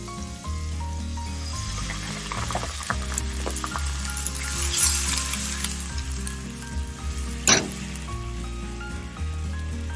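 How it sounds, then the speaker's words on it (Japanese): Shrimp deep-fry in hot oil for an Italian-style pasta, a steady bubbling sizzle with scattered crackles and a sharp clatter near the end, under a low background hum, no talk. "火が通りやすいのでエビはなるべく1分ぐらいで揚げますね。"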